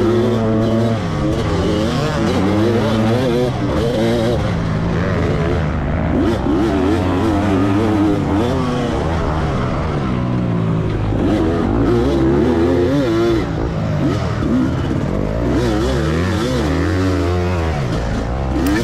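A 2004 Kawasaki KX250 two-stroke dirt bike screams at full throttle during a motocross race over rocky dirt, the engine loud and close throughout, its pitch climbing and dropping as the rider revs and shifts.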